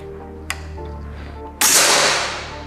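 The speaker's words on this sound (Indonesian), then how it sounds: "lanjut tembakan keenam" A single sharp crack from a Gousuto Oria V2 air rifle at close range, preceded by a small click, then a bright burst that tails off over a second, with no voices.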